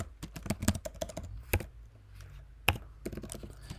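Typing on a computer keyboard, rapid bursts of close key clicks with short pauses and a louder single keystroke near the end, no voices.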